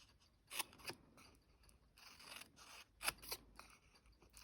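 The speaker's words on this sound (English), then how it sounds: "You're going to snip all the way up" Scissors snip through thin card to cut strips for a Halloween witch's broomstick. The cuts come as several quiet, close, irregular crisp snips with soft pauses between them.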